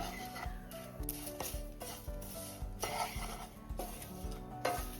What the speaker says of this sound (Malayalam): ഇനി ഇതിൻ്റെ പച്ചമണം മാറുന്നോടം വരെ നമുക്കൊന്ന് ഈ ചൂടത്തൊന്ന് വറുത്തെടുക്കാം.